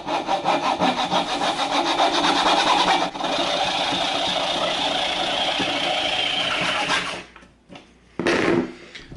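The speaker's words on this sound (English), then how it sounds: "I'm using this coping saw and putting it right about here." A hand coping saw cutting through a piece of walnut wood, loud, close, rapid back-and-forth rasping strokes for about seven seconds, then a pause and one more brief burst.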